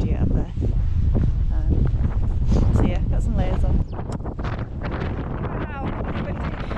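Strong wind buffeting the microphone while bikepacking in the Lapland mountains of Finland, loud and gusty throughout, with a sharp drop in level partway, under talk.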